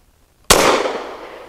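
A Caracal Enhanced F pistol loaded with 147 grain HST rounds fires a single loud, close shot, a sharp crack with a brief echoing tail outdoors at a range.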